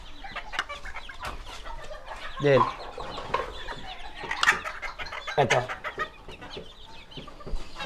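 Chickens including Serama and other fancy bantam breeds cluck and squawk in a pen, several birds calling in irregular bursts, with people talking briefly in the background.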